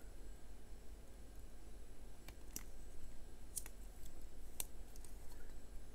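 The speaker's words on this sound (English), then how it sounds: "a pair of scissors." Tiny spring-loaded scissors on a Swiss+Tech ST021033A 16-in-1 multi-tool snipping a few times, faint sharp clicks spaced irregularly over a steady hiss of background noise.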